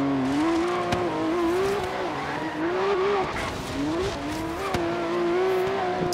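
Race car engine in Forza Horizon 3 holding a steady high whine that dips and climbs as the car brakes late and accelerates again, loud and continuous with brief clicks, no talking.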